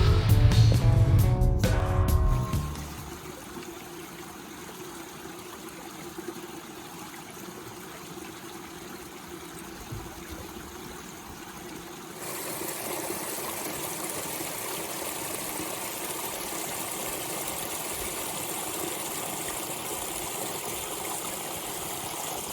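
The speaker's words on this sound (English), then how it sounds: "The sound of the flowing water echoes throughout Coyote Canyon so serenely." A storm-filled creek rushes over rocks and mud in Coyote Canyon in the Anza Borrego Desert. After a brief loud rumble at the start, a steady hiss of flowing water continues alone and grows fuller partway through.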